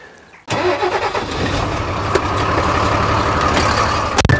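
A truck engine cranks and fires after a brief quiet moment, then settles into a steady, fairly loud idle with a few knocks and clatters near the end.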